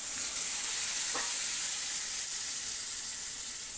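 Whole spices frying for beef bhuna hiss and sizzle in a pan as a little water goes in, a steady faint sizzle with a brief crackle.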